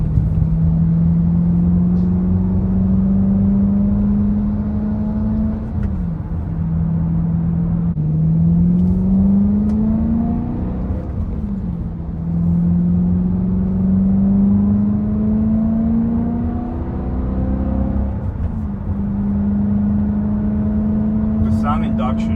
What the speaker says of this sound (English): just the engine noise is so satisfying that even driving with the windows down feels pretty good